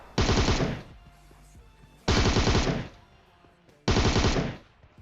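Three long bursts of rapid automatic gunfire in PUBG Mobile, each loud and sustained for under a second before fading, separated by short gaps.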